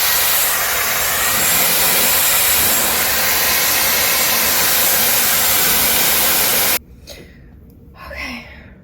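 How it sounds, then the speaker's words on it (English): Dyson Airwrap blowing air to dry damp hair on top of the head, a loud steady close whoosh that cuts off abruptly near the end, leaving faint handling noise. "I might go through and just dry the top of my head some more because it's just still damp."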